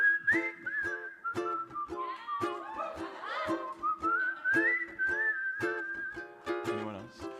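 A person whistles a melody during a Christmas special, clear close phrases with gliding pitches and short breaks between notes, alone without talk.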